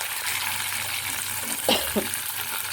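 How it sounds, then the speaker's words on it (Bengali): Pieces of pointed gourd and potato fry over low heat in a pan with a soft, continuous sizzle, then two brief scraping stirs near the end. "পটলটা দিয়েও ঠিক এভাবে অল্প অল্প করে নাড়িয়ে চাপা দিয়ে দিয়ে কম আঁচে ভেজে নেবেন"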